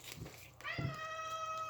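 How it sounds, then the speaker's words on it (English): A cat meows once with a long, drawn-out tonal cry, close by, over a faint murmur of background noise. "You hear my little Coco meowing in the background"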